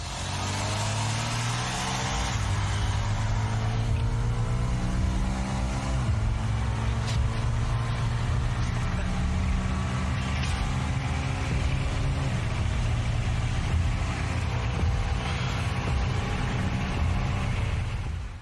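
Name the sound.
Lexus cars accelerating in a drag race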